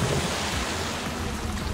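Water pumping in and filling a chamber in the Ratchet & Clank video game, a steady dense rushing wash that stays loud and constant throughout, with no talk.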